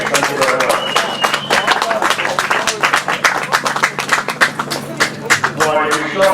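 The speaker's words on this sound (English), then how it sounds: "So a big round of applause for Mr. Clark of Buildbase, please." Crowd applause for the trophy sponsor at a grasstrack racing prize presentation, a dense burst of clapping from many hands, fairly close and steady, with speech mixed in.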